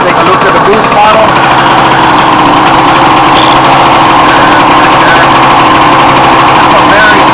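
A 49cc engine fitted with a PZ19 carburetor and boost bottle runs steadily, a loud, close, buzzing high-revving drone throughout with a brief change near the start, a voice talking over it.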